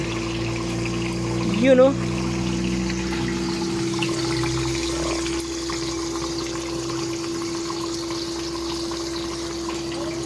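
Water flushes steadily through a rusty bio-sand filter during backwash, a continuous pump-like hum and watery rush with a steady tone, while someone speaks briefly over it.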